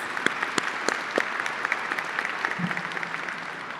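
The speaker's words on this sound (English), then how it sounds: "Please, round of applause." Audience clapping at a college commencement, a moderately loud spread of individual hand claps with sharp scattered peaks, steady across the whole stretch with a brief voice near the end.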